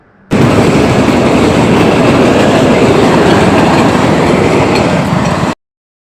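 A diesel train roars past a railway crossing at close range, a loud continuous rumble with rattling wagons that starts abruptly and cuts off about five seconds later.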